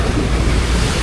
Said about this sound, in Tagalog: Iba ng alon dito mga amigo.